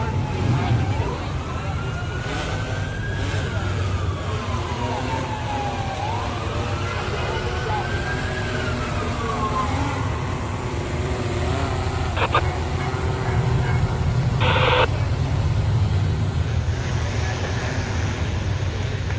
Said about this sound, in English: I hear more ESU coming. You can tell by the different sirens.